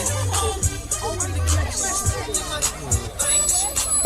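Middle schoolers in party hats cheering and chattering in the background at a girls' softball area tournament game, a lively crowd babble with scattered shouts at moderate distance, with nearby talk on top.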